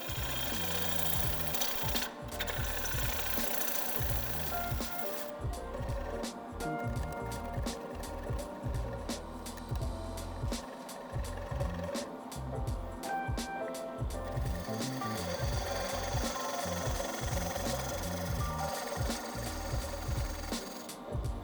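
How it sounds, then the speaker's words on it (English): A wood lathe turns a bowl while a scraper takes a series of shear scrapes, giving a steady, loud mechanical whir with rapid rhythmic ticking and scraping across the surface, continuous and close, with no talk. "I'm gonna use the wood beater again to take a series of shear scrapes to get that finalized"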